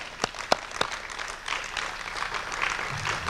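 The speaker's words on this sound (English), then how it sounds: "If we can have a round of applause for the candidates." An audience at a 2010 state senate and house candidate forum applauds the candidates, starting with a few distinct sharp claps before settling into a softer, continuous patter of clapping at moderate distance.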